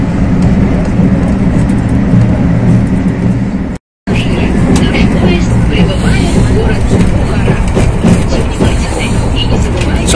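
A train rolls along the rails in a steady loud rumble with rattling wheel noise, broken by one short gap, continuous and close as if heard from inside a carriage.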